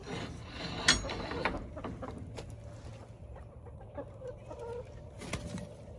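Chickens on a cold morning at Doss Farms cluck and squawk in short, scattered calls at middle distance after being let out, over a quiet outdoor background, with no talking.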